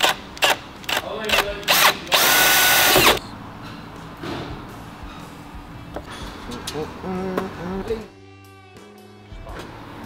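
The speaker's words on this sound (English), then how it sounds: "we're going to use a drill to drill some pilot holes" A power drill bores 3 mm pilot holes into the A-pillar of a Suzuki Jimny while fitting a snorkel, with several short whirring bursts and one longer sustained run, loud and close, and voices talking between the bursts.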